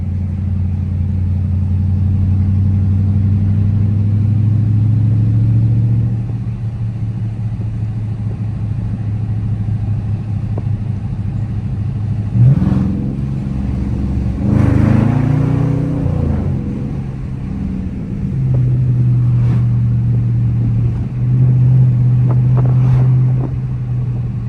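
A Dodge Charger R/T drones steadily from inside the cabin during a drive, with its engine note rising and falling and a few sharp exhaust pops over some wind rumble.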